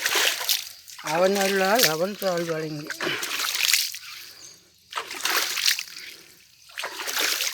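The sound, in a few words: water poured over stone idol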